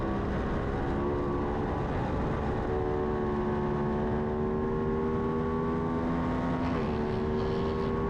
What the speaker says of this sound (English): You can hear the distinct sound of that BMW going through the infield here at Blackhawk Farms